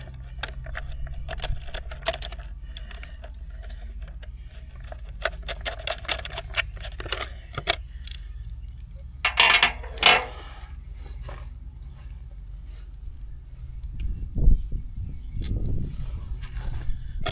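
A 13mm socket unscrews a bolt on a Mech Maxx VAM60 flail mower for a Kioti 2620 tractor, giving rapid ratcheting clicks and metallic taps up close, then a few louder clanks and low rumbles later on, with no speech.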